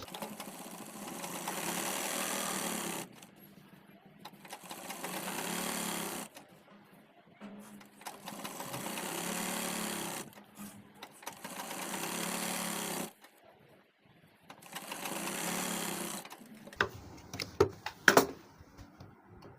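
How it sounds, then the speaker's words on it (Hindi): A sewing machine stitches a handmade travel bag along a zipper seam, running in several bursts of a few seconds each with short pauses between them, then a scatter of clicks and handling noises at the end. "ऊपर से एक पैर की सिलाई लगा देना है।"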